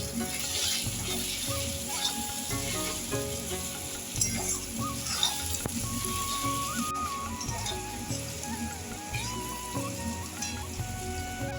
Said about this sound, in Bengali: পেঁয়াজটা এরকম লাল লাল করে ভেজে নিতে হবে প্রথমে।